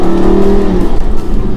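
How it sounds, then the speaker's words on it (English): Lamborghini Gallardo LP550-2 engine revving under throttle, a loud close growl that rises then eases off over a second and a half. "The moment I tap the throttle, I feel the surge of the power coming in."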